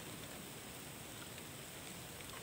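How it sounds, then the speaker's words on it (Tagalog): Rain falls steadily at night around a ruined house, a dense, even hiss of drops with no break and no voices. "Umuulan ngayon"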